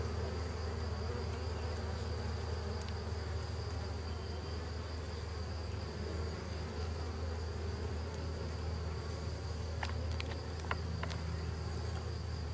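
Steady, dense buzzing of many honeybees close by at a small swarm hive, a continuous droning hum with no talk.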